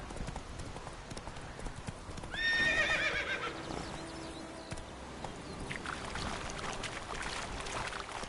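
Roach the horse from The Witcher 3 galloping, with steady clip-clop hoofbeats and a loud neigh partway through, backed by game ambience and faint music.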